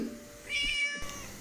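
A cat meows in the Scary Teacher video game: one clear, drawn-out meow over a low game background hum, close and distinct, with no voices.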